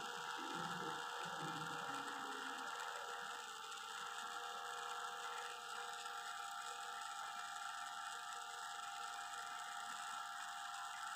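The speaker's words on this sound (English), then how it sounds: "motor will run for some time in one direction, then it will stop, and then it will reverse its direction" A 12 V DC motor driven by an 8051 microcontroller circuit runs with a steady mechanical whir and ratcheting gear-like chatter, fairly loud and continuous, without speech.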